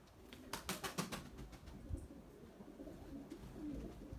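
A female tumbler pigeon coos in a few soft, rounded calls near the start, close by, followed by low outdoor background noise.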